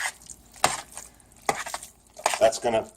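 Oyster mushrooms stirred in a pan for risotto: a few sharp scrapes and clanks of a utensil against the pan in short irregular bursts, close and fairly loud, with no talk.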